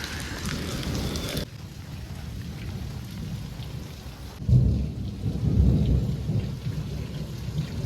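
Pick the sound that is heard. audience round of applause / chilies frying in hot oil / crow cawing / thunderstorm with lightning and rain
thunderstorm with lightning and rain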